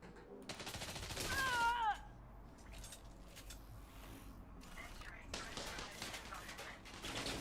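Bursts of gunfire from a gun in Elite Dangerous crackle in rapid clusters, loud at first then intermittent, mixed with tonal game effects and a voice talking over parts of it.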